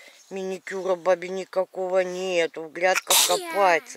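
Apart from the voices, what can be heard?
sneeze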